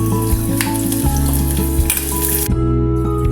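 Tomato fries loudly in a pan for a sardine dish, a dense, close sizzle with periodic scraping stirs, strong and unbroken throughout, no one speaking.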